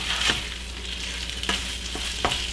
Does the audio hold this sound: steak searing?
yes